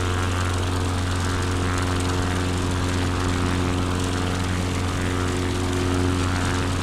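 A propeller airplane engine in Microsoft Flight Simulator roars at full takeoff throttle, a loud, steady droning hum with strong low tones that holds unbroken throughout with no talk.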